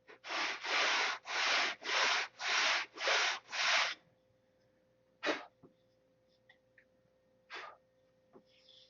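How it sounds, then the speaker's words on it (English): Seven rhythmic, even sanding strokes rasp across a surface close by, followed by quieter handling knocks and a couple of isolated scrapes, with no talk. "So I push it up till it's flat on the other side and just sand it right off."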